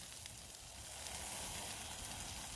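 Sausages sizzling on an Aussie boat barbecue, a steady broadband fizz of fat crackling on the hot plate, continuous and close, with no talking.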